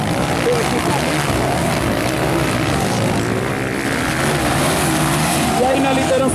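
A loud, continuous CG-class racing motorcycle engine roars and accelerates up close at a velocross race, dense and rough throughout, with voices faintly mixed underneath.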